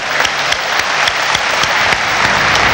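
Loud applause from the audience at a Quran-versus-Bible debate event, a dense, even wash of many hands clapping with a few sharper claps standing out, continuing throughout without talk.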